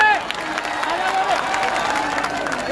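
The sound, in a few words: crowd applause and cheering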